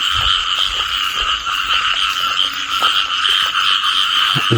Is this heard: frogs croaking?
yes